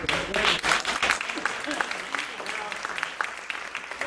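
A theater audience at a vaudeville show in Boonton, New Jersey applauds a magic trick, a wash of many clapping hands under and after a speaking voice.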